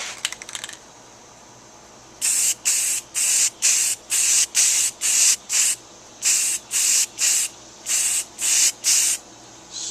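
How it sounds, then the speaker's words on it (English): Bursts of spray paint hiss from a can as metallic silver coats a 1941 Zenith Model 6-S-597 radio chassis, about sixteen short, even blasts in a steady rhythm, close and loud, after a brief rattle at the start. "Time to shoot it with the metallic silver."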